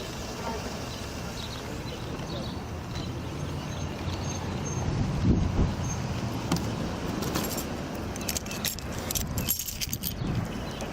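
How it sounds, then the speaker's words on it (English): Car keys jangle and rattle through a roadside police stop, mixed with a steady hum of passing traffic and background vehicle noise, with brief bursts of metallic clinking near the end. "Where are the keys to this car?"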